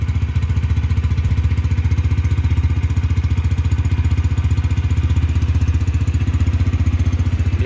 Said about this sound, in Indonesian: Kita dengerin stasioner yang pakai cok dulu.